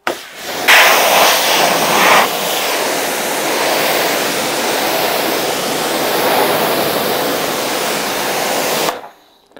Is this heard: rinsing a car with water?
yes